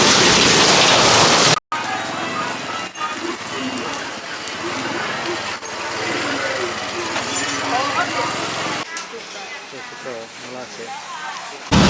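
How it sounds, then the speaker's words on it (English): Monsoon rain in Thailand hisses in a steady broad wash, loud and close at first, then continues more faintly beneath voices talking and other activity. "We've just dodged a massive rain shower and hidden in a coffee shop for a while, but it's starting again."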